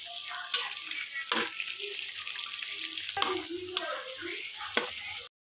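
Hilsa fish tails fry in mustard oil in a pan with a steady, dense sizzle throughout, broken by several sharp knocks and clatters as the pieces are turned over.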